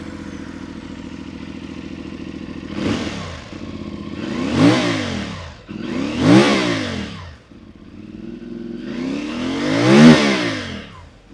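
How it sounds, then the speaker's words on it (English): A CFMoto 450MT motorcycle engine idles steadily, then revs sharply four times in short bursts, each rev climbing and falling back to a low burble. "make you listen to the exhaust sound of the CFMoto 450MT"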